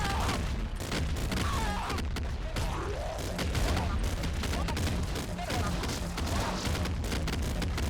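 A grenade rifle fires in the video game Nuclear Throne, a dense, unbroken barrage of rapid shots and explosive booms mixed with other game effects.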